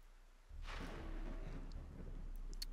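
Thunder rolls through a lightning storm in Wartales, a deep rumble starting abruptly and sustaining with a faint crackle, fairly quiet and distant.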